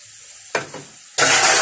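Tomatoes hitting hot curry masala in a pan for a mixed vegetable curry, a brief stir and scrape followed by a loud, steady close-up sizzle of frying.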